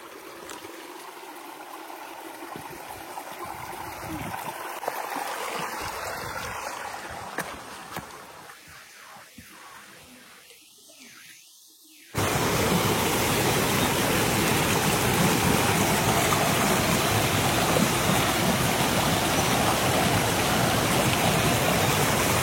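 A waterfall on the Netravati forest trek. At first, quiet footsteps and rustling sound over a faint distant rush. Then a loud, close roar of falling water takes over and holds steady to the end.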